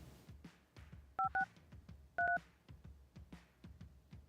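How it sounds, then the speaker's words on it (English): Telephone keypad tones on a morning radio show in the Marianas: two short bursts of paired electronic beeps, a quick cluster and then another about a second later, clear over a low, busy background. "So we're going to make a call right now."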